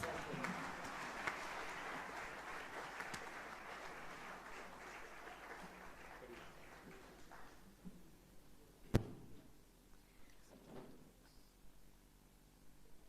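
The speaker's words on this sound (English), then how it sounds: "Please give them a round of applause" Quiet applause from an audience at a spiritual centre talk, a soft patter of clapping that fades out over about seven seconds, followed by near silence with a single sharp knock.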